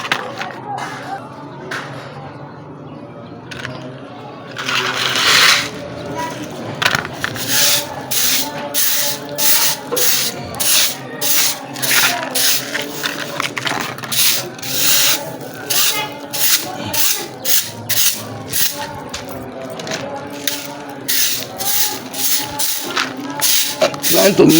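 A barber's blade being sharpened on a hard manual sharpening stone, giving steady repeated rasping strokes in a quick rhythm, close and fairly loud, with a voice speaking at times.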